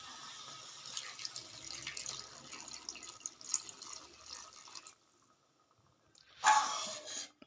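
Water is poured into a pan of egg curry, a soft continuous splashing trickle for about five seconds, then a pause and a brief louder gush near the end.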